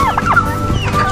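Male turkeys at a Philippine poultry farm give several quick, close gobbling and clucking calls in a short, busy burst of squawky bird noise.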